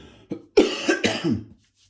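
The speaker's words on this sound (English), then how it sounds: "rasping cough that developed over the 100k" A few harsh, rasping coughs in quick succession, close and fairly loud, with no talking, from a runner with a cough developed over a 100k run.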